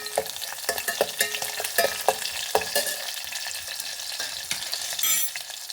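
Green chilies hitting hot oil with garlic and popped mustard seeds for bottle gourd pappu, a close sizzle broken by repeated sharp clicks of a spoon stirring the pan.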